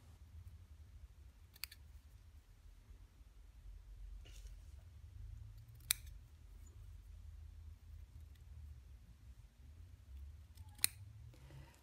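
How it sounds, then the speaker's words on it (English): Scissors trim felt around cardboard shapes for a handmade toy, giving a few sparse, crisp snips spaced several seconds apart over a quiet, low background hum, close and fairly soft. "Trim around each of the cardboard shapes, leaving a small seam of felt extending past the edge of the cardboard."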